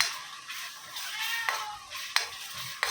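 A soft, steady sizzle of ginger garlic paste frying in a pan, with a few sharp clinks of a spoon scraping the pan.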